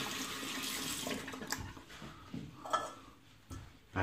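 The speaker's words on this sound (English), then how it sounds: "Rinse your hand." Water runs from a tap over a hand being rinsed after squeezing lather from a shaving brush, a soft steady splash with a few louder gurgles and drips near the end.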